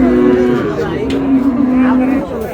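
Cattle at a village livestock market in Dinajpur, a loud, close, sustained moo from a cow or calf lasting a couple of seconds, with market noise around it.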